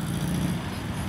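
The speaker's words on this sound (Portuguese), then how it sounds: "Indo embora aí o lindo Opala." Chevrolet Opala pulling away at an outdoor classic car meet in a park, a steady low engine rumble blending with broadband road and wind noise over a brief stretch.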